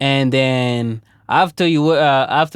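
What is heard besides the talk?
No everyday noises stand out.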